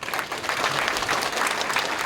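Dense, steady audience applause from a church elders' gathering thanking a government minister after his lecture, continuous and fairly close.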